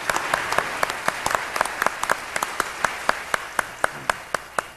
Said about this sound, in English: So let's have a round of applause for all of these authors